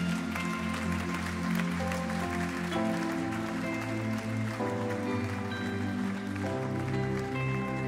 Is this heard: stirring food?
no